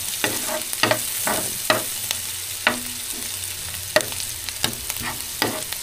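Garlic frying in a pan sizzles steadily while a utensil stirs and scrapes it in repeated knocks and clatters, close and clear with no voices.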